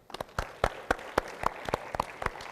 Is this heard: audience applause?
yes